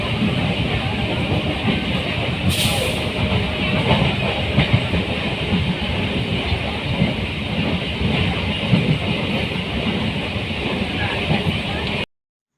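A continuous rumble of a moving passenger train carriage with rattling and clatter, heard from inside, steady and loud throughout, ending abruptly.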